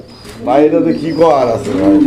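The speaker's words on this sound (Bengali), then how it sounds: "দেখেন আপনারা ডাক দেখেন কবুতরের" Fancy pigeons coo close by in a small cage, in two rolling, throaty bouts, with a soft murmur in between.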